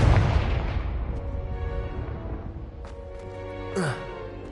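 A Confringo fire spell blasting in Hogwarts Legacy: a loud booming burst at the start that rolls off into a long fading rumble, followed by a few sharp cracks and a brief rising whoosh near the end.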